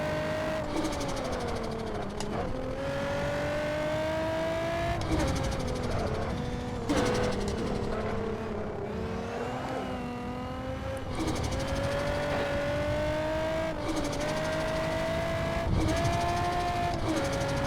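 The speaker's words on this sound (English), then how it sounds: "I'm gonna go uphill as much as possible and really use all this power in this car" A boosted Nissan 350Z climbs the Hakone Turnpike at full throttle, its engine rising in pitch repeatedly through the gears with brief dips at each shift, loud and steady up close.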